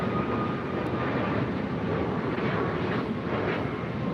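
An airliner taking off from runway 25 right at LAX, a broad, continuous jet roar that holds steady and loud throughout, with no voices over it.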